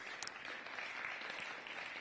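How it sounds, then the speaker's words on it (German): Applause fills a lecture hall at the end of a talk on learning about and with AI, a dense steady wash of many clapping hands that holds evenly throughout without a break. "Also donnernder Applaus im Raum, aber auch im Netz"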